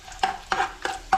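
Cashew nuts fry in a pan while being stirred for paramannam, a jaggery rice pudding, with four quick, evenly spaced scraping strokes through a soft sizzle, close and fairly loud.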